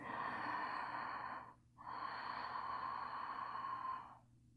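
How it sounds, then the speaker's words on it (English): Two long, steady yogic throat breaths with a soft, hissing whoosh, separated by a short pause, close and fairly quiet with no talking. "making sort of a whooshing sound like you're fogging up a window"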